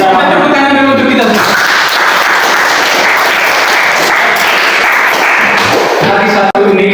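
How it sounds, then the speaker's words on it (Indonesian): A classroom of students bursts into applause after a voice talks briefly at the start, and the steady, loud clapping fills the rest of the stretch before ending with a sharp thump. "Kita tepuk tangan dulu untuk kita."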